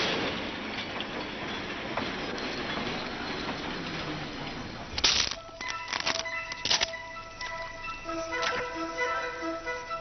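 A train runs on the railway from Mombasa, first a steady rolling rumble and then a run of sharp, rhythmic wheel clacks and metallic knocks, fairly loud and continuous.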